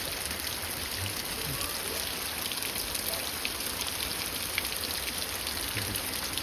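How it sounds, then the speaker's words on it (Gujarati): Steady, even rain hisses continuously, a dense wash of drops with no voices, a sudden heavy downpour in a village near Botad. "ફૂલ આવતો વરસાદ ઘડીક વારમાં પાણી પાણી થઈ ગયું"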